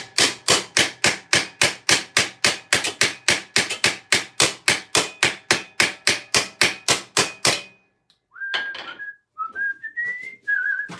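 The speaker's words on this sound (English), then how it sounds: "I'm going back to snugging up the loose rivets" Loose rivets on a piece of armour are hammered tight in a quick, even run of about two dozen sharp metallic blows. The blows stop and a few short, rising, whistle-like squeaks follow.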